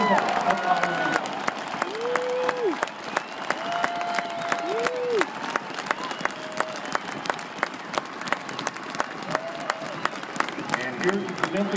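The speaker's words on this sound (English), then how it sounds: "we ask that you please stand for a big round of applause as we thank Captain Jake Stoddard for his service on behalf of Iowa State" A large stadium crowd applauds steadily to honor a military captain at a pregame ceremony for an Iowa State vs. Oklahoma college football game, with scattered sharp claps standing out and a voice briefly heard through the broad roar.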